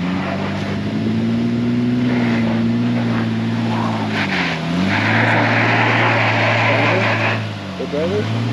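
Honda Ridgeline or Passport engine straining as the vehicle climbs rough off-road terrain, a loud sustained drone that shifts pitch and dips near the end, with people talking over it.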